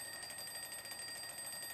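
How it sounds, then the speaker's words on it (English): A game alarm clock ringing in Project Zomboid, a continuous rapid electronic beeping tone pulsing evenly and loudly for the whole stretch. "Stop that alarm."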